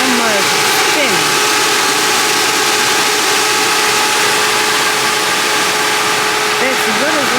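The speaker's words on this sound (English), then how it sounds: "And I hear a little rattling there." A 2017 Camaro engine runs steadily at idle with a faint metallic rattle, loud and continuous with tonal whine and sweeping pitch traces, and no clear speech in the clip.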